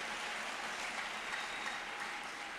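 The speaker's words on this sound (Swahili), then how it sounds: "Wacheni tupigie Yesu makofi kwa sababu ya jambo hilo." Applause from a church congregation during a Kikuyu Sunday service at PCEA Kangemi Parish, heard as a steady, moderately quiet wash of many hands clapping throughout the short moment, with no voices over it.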